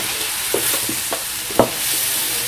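Frog pieces frying in fish sauce in a pan, a steady loud sizzle with several scraping stirs of a utensil against the pan, heard close up with no talk.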